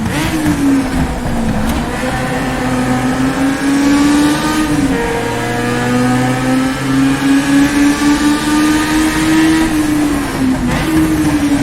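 A 1960s formula race car engine in the rFactor 2 racing game drones steadily and loud at high revs, shifting pitch as it downshifts and accelerates through corners, with no talk.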